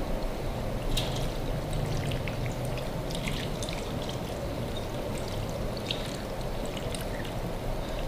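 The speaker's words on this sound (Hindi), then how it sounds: "ये ठंडा हो चुका है, अभी डालते हैं जी। पूनी के साथ हम भून के अचार ऑयल को इसके अंदर डाल देंगे।" Cooled oil pours steadily into homemade mango pickle, a continuous soft liquid stream with small splashes and trickles, close and fairly quiet, with no voices.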